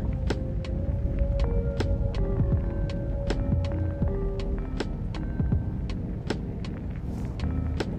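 Inside a 2017 Nissan March XS crawling through traffic jam, a steady low cabin rumble and hum of road and engine noise fills the car, with repeated short ticking clicks throughout and no talking.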